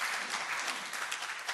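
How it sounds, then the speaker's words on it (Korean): A church congregation at a Sunday service at Kyungbok Church claps together in a brief, even patter heard at some distance, with no talking over it. "역시 우리 존경하는 권사님 박수 한번 쳐주겠습니다."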